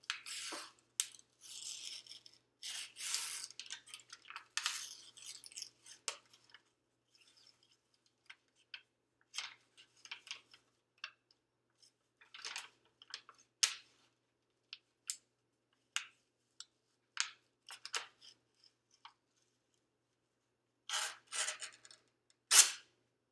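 Sweet roll dough being torn apart by hand: a string of short, soft, sticky tearing and pulling sounds close by, in bursts with quiet gaps between them, then a final cluster of rips.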